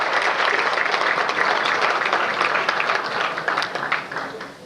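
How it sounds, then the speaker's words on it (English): Steady, dense applause from an audience at a community awards ceremony in Westmont, filling the room at full strength for several seconds before easing slightly at the end. "Let's please give them a round of applause."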